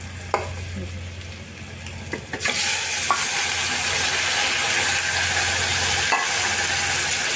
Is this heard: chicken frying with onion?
yes